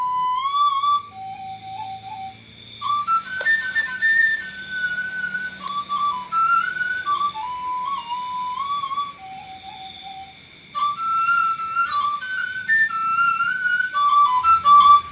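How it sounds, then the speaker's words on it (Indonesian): A breathy Javanese suling bamboo flute plays a wandering melody of short and sustained notes over a soft low accompaniment, with brief pauses between phrases. "Berikut adalah contoh bunyi dari suling."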